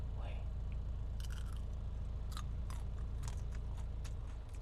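Crispy skin of spit-roasted pork being bitten and chewed, with several sharp crunches and crackles spread over a steady background hum at a night food stall.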